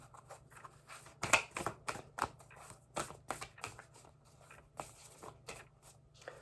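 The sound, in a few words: shuffling Moonology oracle cards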